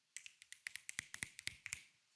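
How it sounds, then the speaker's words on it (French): A quick series of about a dozen sharp finger snaps, crisp and close, spaced irregularly with no voices. "Un claquement de doigts."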